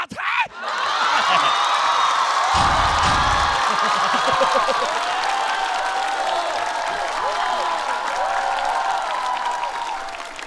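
A stand-up comedy show audience applauds and cheers for a long stretch, with dense clapping, whoops and yells, loud and close, and a voice briefly audible over the crowd.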